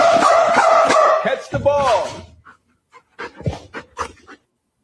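Dog panting and whimpering from a played video, with rapid breathy bursts and whining tones under a voice talking over them, then quieter scattered sounds.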